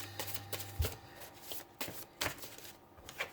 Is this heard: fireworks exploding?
no